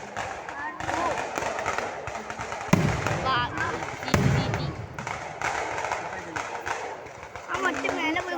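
Firecrackers go off at a festive outdoor gathering, with a few sharp bursts and thuds rising over steady nearby chatter.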